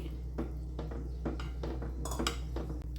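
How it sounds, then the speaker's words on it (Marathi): A spoon stirs custard powder into milk in a pot or bowl, giving repeated close clinks and scrapes in a steady rhythm over a constant low hum. "म्हणून अशा प्रकारेच याच्यामध्ये कस्टर्ड पावडर ही मिक्स करायची"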